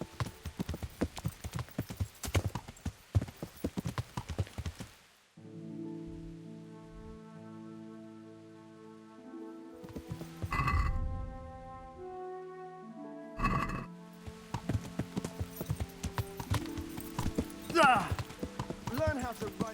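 Horse hooves clip-clop in the video game Kingdom Come Deliverance, with rhythmic steps starting and stopping around a quiet stretch of sustained music tones, under game sounds and some faint voices.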